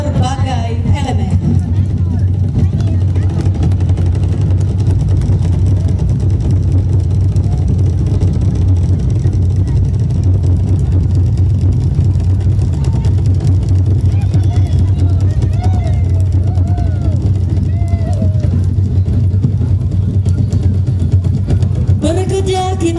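Engine rumble and crowd hubbub from a line of parade vehicles rolling past at a ta'aruf procession of 50 vehicles in Tana Toraja, a steady low drone with chatter and distant voices throughout.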